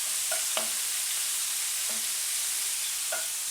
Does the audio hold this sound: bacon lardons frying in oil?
yes